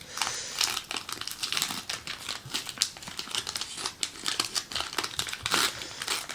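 A Pokémon Sun & Moon booster pack's foil wrapper is torn and crinkled open close by, giving a continuous rustling, crackling sound with irregular sharp bursts, no voices.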